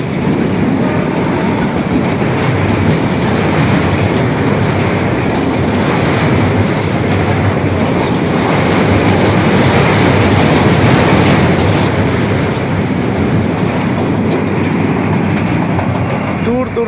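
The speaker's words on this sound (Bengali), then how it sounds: "আমাদের মাঝে উপস্থিত হলো একটি ট্রেন আসতেছে।" A loud, close train roars past continuously, its rolling wheels and rumbling cars filling the whole stretch without letup.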